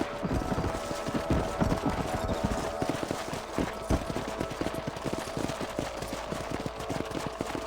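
Rapid, rhythmic hoofbeats of a horse galloping in the Red Dead Redemption video game, close and sustained with a clattering clip-clop pattern throughout.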